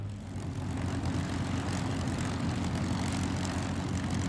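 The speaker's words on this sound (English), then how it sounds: "This will be their high-speed pass. Again, about 350 miles an hour." A formation of P-51 Mustang propeller fighters makes a high-speed pass at about 350 miles an hour, a loud, steady, rough piston-engine roar with deep droning tones that holds throughout.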